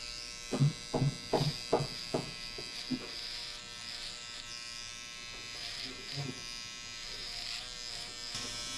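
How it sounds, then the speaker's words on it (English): An electric hair trimmer buzzes steadily and close up while giving a buzz cut, a constant whine with a few short vocal sounds early on. "So this time I'm gonna use the trimmer."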